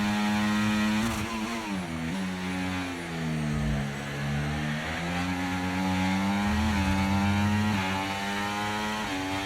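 F1 car engine in the F1 24 racing game, running very hot during a debut race, a loud, high, buzzing whine that rises and falls with revs in sweeping pitch changes, continuous and close.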